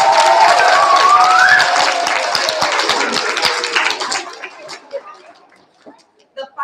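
School audience at a kindergarten and first grade awards assembly clapping for students, dense applause that starts full and thins out into scattered claps and a few voices before dying away.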